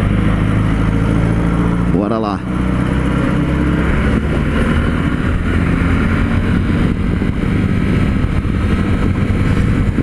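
Honda Sahara 300 motorcycle on a test ride, a steady loud engine drone with strong low rumble throughout, a brief voice cutting in near the start.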